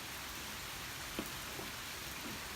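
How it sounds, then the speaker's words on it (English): Steady rain falls outside in cool weather, a soft continuous hiss with faint scattered drops, no voices over it. "It's gonna rain for a while"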